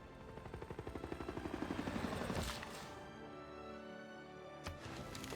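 Rapid rhythmic gunfire-like pounding in Civilization VI as units attack cavalry, a fast pulsing burst for about two seconds, then a crash and a sharp impact over a low game background.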